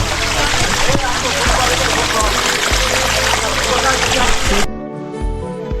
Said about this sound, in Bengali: এখানেও পাহাড়ের উপর থেকে ঝর্ণা পড়তেছে